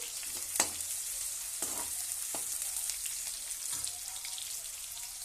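Lengthwise-sliced onions fry in a pan for palak rice with a continuous, close crackling sizzle. A few sharp clinks and stirring sounds break through.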